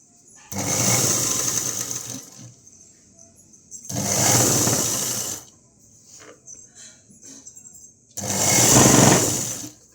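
A sewing machine stitches blouse cloth in three bursts of fast, whirring, rattling motor hum, each a couple of seconds long, separated by near-silent pauses; close and loud.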